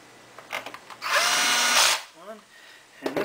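An electric screwdriver whirs in one sustained burst lasting under a second, driving a screw into the back of a PS3 power supply. Shorter handling clicks and faint speech surround it.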